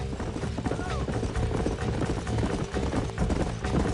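Hooves of a horse clopping in Red Dead Redemption, a rapid, continuous galloping rhythm that stays loud and close throughout, mixed with creaks of tack and game ambience.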